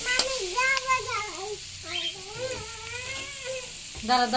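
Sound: potatoes and tomatoes sizzling while frying for egg curry

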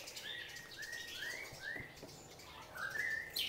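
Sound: bird chirping at a bird market

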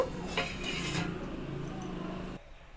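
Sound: lid being put on a pot of boiling vegetables

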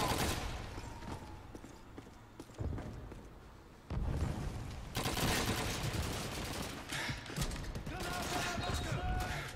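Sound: gunfire while being shot in Call of Duty 2 video game

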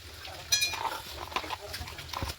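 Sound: stirring chili powder and salt into hot oil in a pan

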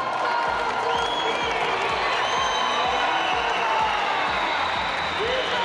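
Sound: crowd roaring in Ataköy Arena

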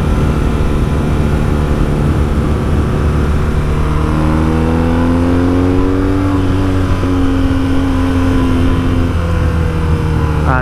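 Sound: Jaguar F-Type exhaust revving with second exhaust opened

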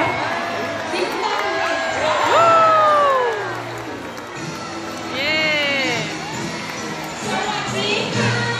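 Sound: audience clapping and cheering at a sea lion show

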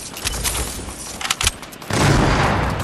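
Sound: gunshots in a console video game

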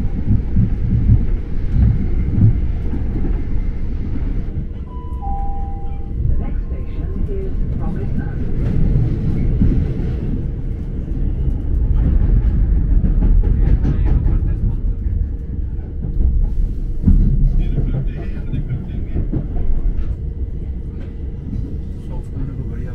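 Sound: inside a moving train

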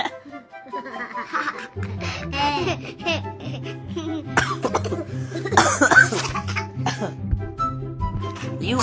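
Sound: child coughing

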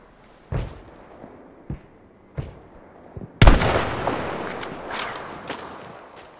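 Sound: gunfire in the video game Battlefield V

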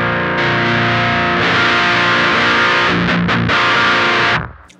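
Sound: guitar through HM-2 distortion pedal, low gain

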